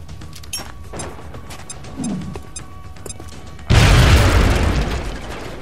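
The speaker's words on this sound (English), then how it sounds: "Now toss your grenade at the enemy in front of you." A grenade blast in the turn-based strategy game XCOM: Enemy Unknown lands as a sudden loud boom with a broad crashing burst that slowly fades, following a stretch of quieter game ambience and faint clicks.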